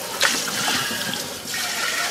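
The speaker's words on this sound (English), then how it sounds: "Take the lid off, turn on the water," Tap water rinsing the pitcher of a Beautiful Kitchenware 5-speed juicer, a loud steady hiss and splash of running water close by, continuous and without talk.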